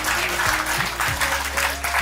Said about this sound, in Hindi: बहुत बहुत तालियां बजाइए इसके लिए।